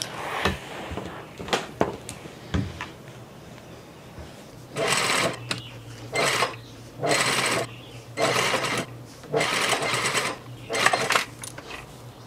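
Sewing machine stitching the side seams of a summer shirt, running in several steady whirring bursts of a second or so, with pauses and small handling clicks in between.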